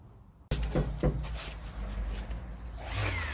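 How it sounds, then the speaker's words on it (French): A power sander starts abruptly and runs with a rough, scratchy whir against wooden sandbox boards, close and steady for a few seconds. "je vais passer un petit coup de ponceuse, juste pour éviter que les enfants se blessent"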